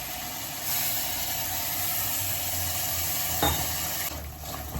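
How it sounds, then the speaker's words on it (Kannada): Water poured into hot noodle sauce in a pan for veg Hakka noodles, a steady close sizzle and hiss with a brief sharper burst near the end, no voices. "ಸ್ವಲ್ಪ ನೀರು ಹಾಕೊಂಡು ಆ್ಯಡ್ ಮಾಡ್ಕೊತಾ ಇದ್ದೀನಿ"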